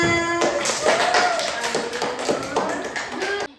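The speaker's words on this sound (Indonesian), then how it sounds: "tepuk tangan dulu untuk temannya" A classroom of students applauds a classmate with a burst of steady, dense hand clapping, loud and close, that runs for about three seconds before stopping abruptly.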